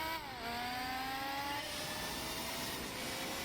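Mazda 787B race car in Gran Turismo, its engine climbing toward a 12,000 RPM redline: a steady, fairly quiet high-pitched whine with rising harmonic tones over the first seconds, then a sustained buzzing drone, no voices.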